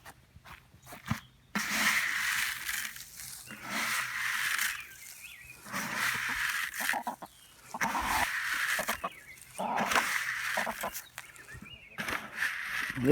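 White broiler chickens on a farm cluck and call in bursts while being fed, a continuous close flock chatter with scuffling footsteps, no talk.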